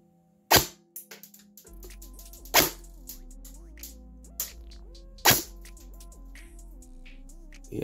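Airsoft gun shots fired through an Acetech AC5000 chronograph: three sharp, loud cracks spaced a couple of seconds apart, each followed by brief mechanical clatter, over a low steady hum.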